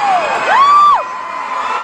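A single voice lets out a rising, sustained whoop-scream in imitation of fans screaming at a concert at the Nokia Theatre in Dallas, loud and close over a faint crowd murmur.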